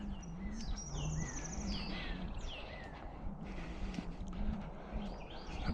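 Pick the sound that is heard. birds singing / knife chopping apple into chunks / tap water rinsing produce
birds singing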